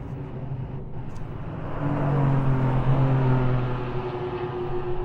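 Renault Twingo Cup race cars slipstreaming down the main straight at Autodrom Most, a rising and falling engine drone swelling to a close loud pass near the middle then easing away, no talk.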